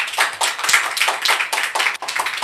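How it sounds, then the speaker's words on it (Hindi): Audience applause at a Christian church gathering in India, dense steady clapping from many hands filling the whole stretch, loud and close with a brief dip near the end. "अब बजाइए ताली"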